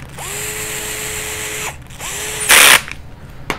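A cordless drill drives screws into aluminum on a Tekno NB48 2.1 RC buggy build, screws treated with blue Loctite. Two close whirring bursts with a rising whine are followed by a louder, harsher burst.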